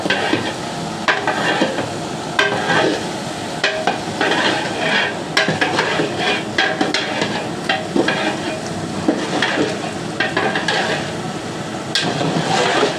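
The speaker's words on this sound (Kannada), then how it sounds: "ಉಪ್ಪು ಹಾಕ್ಬಿಟ್ಟು ಚೆನ್ನಾಗಿ ತಿರುಗಿಸ್ಬೇಕು" A large pot of salted Doddaballapur biryani being stirred, with steady scraping and clanking of a ladle against metal and a constant sizzle, repeated strokes loud and close.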